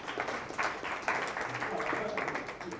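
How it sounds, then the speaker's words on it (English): A school audience applauds at a staff strengths-finder session, steady dense clapping at moderate distance with a few voices mixed in. "Let's give a round of applause."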